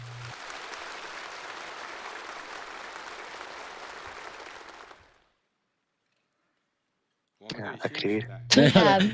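Delegates at the Chinese Communist Party national congress break into a dense, steady round of applause lasting several seconds, then it cuts to silence before speech begins.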